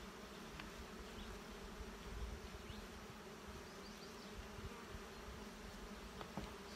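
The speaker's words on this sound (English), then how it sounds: "The bees are in a good mood today." Dense, steady buzzing of honey bees around hives fills the air, a soft continuous hum with no voices.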